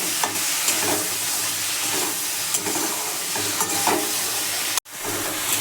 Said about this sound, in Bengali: নুন দিলে আমরা তরকারিটাকে কষাবো একটু টমেটো কুচা দিয়ে দিলাম